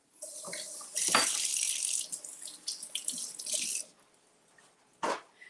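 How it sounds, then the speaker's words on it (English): Tap water running loudly over a tomato being washed, a steady splashing rush for a few seconds that stops, then a short burst of water again. "Let's wash our tomato."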